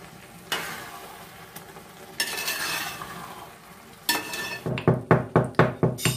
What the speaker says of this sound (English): Adding ghee in between, stir continuously.